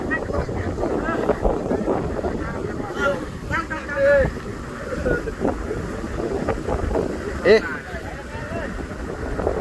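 The engine of a farm tractor that has fallen into a canal keeps running with a steady rough rumble. People talk close by, and wind buffets the microphone.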